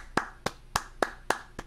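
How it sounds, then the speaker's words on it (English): Hands clapping in a steady, even rhythm of six sharp claps, close and distinct, with no voices. "I've never clapped this long in my entire life."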